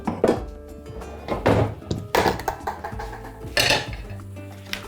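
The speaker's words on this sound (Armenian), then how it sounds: "Տապակ ենք, կաթսա ենք դնում կրակին" A frying pan and a cooking pot set down on a stove with loud, close metallic clanks and thunks in quick succession, over a faint musical background.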